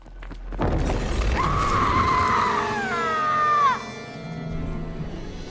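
A single scream in the Indiana Jones and the Great Circle video game, holding a strained tone for about two seconds before its pitch drops and cuts off, over a low rumbling game background.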